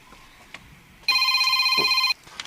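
A mobile phone rings nearby with a bright electronic ringtone that sounds steadily for about a second and then stops, with no talk over it.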